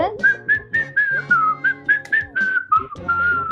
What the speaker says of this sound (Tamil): ஏங்க விசில் அடிச்சது போதும்